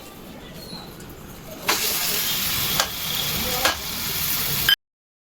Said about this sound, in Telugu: వేగే వరకు ఇలాగా తిప్పుకుంటూ ఉండాలి